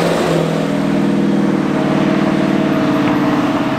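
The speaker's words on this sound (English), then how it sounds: "So that's with it going through the Magnaflow, and honestly, it sounds like a totally stock F-body with a normal cat-back exhaust." Turbocharged Pontiac Trans Am F-body with a 4-inch downpipe tapering to 3-inch, exhausting through a Magnaflow cat-back, idles or revs steadily with a loud, continuous low burble close by, no talk.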